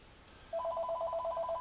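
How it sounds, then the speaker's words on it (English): A telephone rings indoors, a repeated electronic trill that starts after a short quiet stretch and continues in quick, even pulses, with no one talking. "Phone rang."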